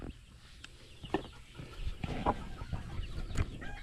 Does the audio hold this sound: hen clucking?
yes